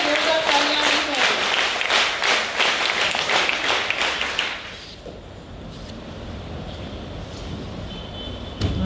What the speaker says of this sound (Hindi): इसकी शक्ति के लिए जोरदार तालियां होनी चाहिए।